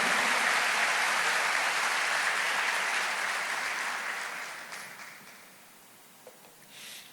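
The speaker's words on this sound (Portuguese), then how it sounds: "Você pode aplaudir o Senhor" A church congregation breaks into applause during a sermon, a dense wash of clapping that stays steady before gradually fading to a few scattered claps near the end.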